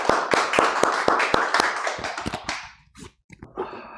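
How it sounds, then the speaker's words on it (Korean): A church congregation at a Sunday service claps together to welcome a missionary. About a dozen fairly even, sharp claps ring out, then thin to a few scattered claps and fade into near silence. "큰 박수로 환영하겠습니다."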